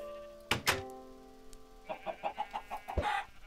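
Chickens cluck in a rapid series of short, quiet calls in a Minecraft-style video game, preceded by a couple of soft thunks and a sustained tonal hum.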